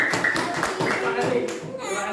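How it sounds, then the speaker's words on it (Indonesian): A classroom of students applauds a group after its presentation, a burst of scattered hand clapping that rises and then tapers off, with children's voices talking over it. "Beri tepuk tangan"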